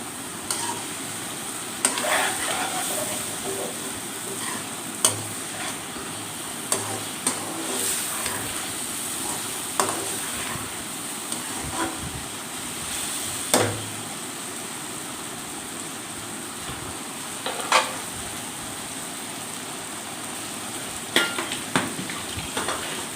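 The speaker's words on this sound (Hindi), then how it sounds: "इसको बहुत ही ज़्यादा अच्छी तरह से मिक्स करेंगे ताकि सारा मसाला भिंडियों के ऊपर" Okra being stirred with spices in a frying pan: steady sizzling frying runs throughout, with repeated scrapes and taps of a spoon against the pan at irregular intervals, up close and with no talking.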